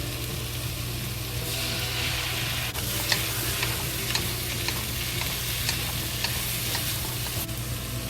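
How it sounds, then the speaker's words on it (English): Soy sauce poured down the side of a hot pot of butternut squash, ham and onion stew sends up a bright, steady sizzle, with occasional ticks of stirring and no talking. "We add 1 tablespoon soy sauce to it. We add it by the side of the pot."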